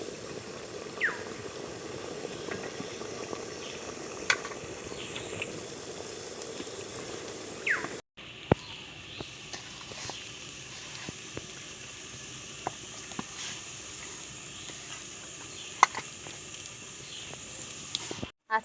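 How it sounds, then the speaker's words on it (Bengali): Palm-filled kodom ful pitha steam over boiling water, a steady soft hiss and bubbling with scattered faint clicks and ticks, continuous and close with a brief cut midway. "বাকি পিঠেগুলো আমি একই রকম করে সেদ্ধ করে নেব।"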